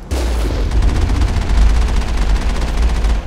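Rapid automatic gunfire from a Mass Effect firefight rattles continuously in dense bursts, loud and close, with booming low impacts underneath and no voices.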